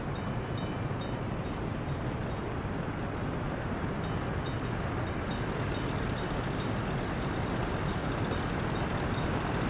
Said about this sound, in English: the trains aren't that frequent